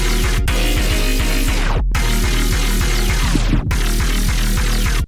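A heavy FM growl synth built in FL Studio, run through a resonator and a vocoder with chords, plays a dense, loud, continuous gritty tone over a steady pounding beat, with a few sharp sweeping dropouts.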